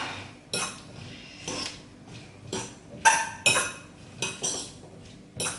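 A spoon clinks and scrapes against a bowl while tomatoes, soybeans and vegetables are mixed for a poké bowl, sounding as a series of sharp, close utensil knocks spaced about a second apart.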